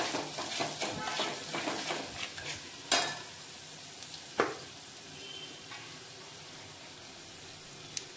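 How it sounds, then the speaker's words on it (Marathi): Red chili powder and masala roast in oil with a quiet sizzle and scraping stirs. Two sharp knocks of a utensil stand out, and the frying sound fades to a low hiss toward the end. "तेलामध्ये टाकते म्हणजे कट चांगला येतो, म्हणून मी तेलामध्ये हे भाजून घेते"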